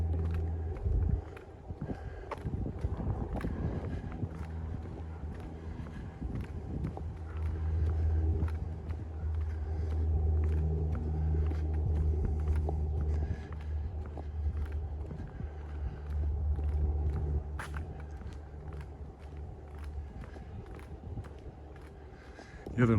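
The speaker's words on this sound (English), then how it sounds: "The other landmark is the sound of the Louvain, the traffic going." Road traffic rumbles along a busy street in Regina heard from a walker nearby, a steady low drone of passing vehicles with occasional footstep-like taps and brief spikes, moderately faint under the ambient city noise.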